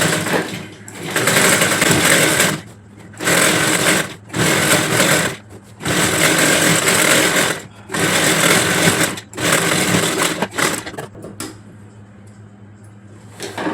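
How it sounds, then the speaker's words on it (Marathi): A sewing machine stitches a strip of a saree petticoat in loud, steady whirring runs of one to two seconds each, broken by short pauses, close by and heard alone. "इथे अशी एक दाब शिलाई मारून घ्यायची"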